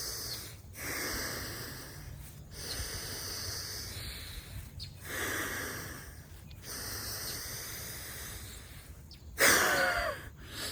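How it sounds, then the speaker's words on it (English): Breathwork exhalations pushed hard through the nose, a series of close, forceful sniffing bursts repeating every couple of seconds, with a sharper, louder blast near the end. "if you breathe out really hard through your nose"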